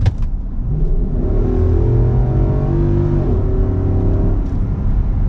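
A 2024 Nissan Patrol Platinum's 5.7 litre V8 revs up and holds a rising, loud, close engine note for a few seconds before easing back, with no talking.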